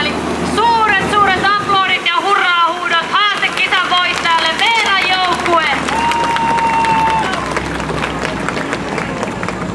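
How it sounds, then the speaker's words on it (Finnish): At the 2014 Vuolenkoski tractor pulling contest, a crowd loudly cheers and whoops, with clapping underneath and raised voices standing out over the din. "suuret aplodit ja hurraa huudot haastekisan voittajalle Veeran joukkueelle!"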